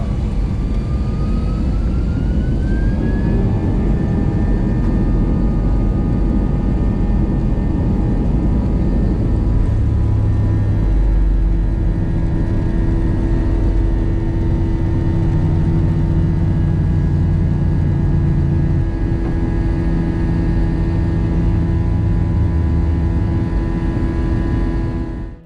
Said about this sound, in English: We soon taxied out for our flight to Abu Dhabi.